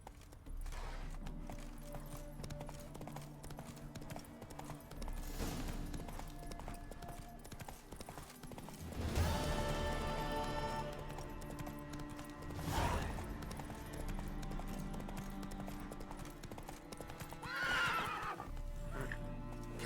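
A horse in the video game The Witcher 3 galloping with steady clip-clop hoofbeats while neighing loudly several times, the whinnies rising over the running hooves and a continuous background score.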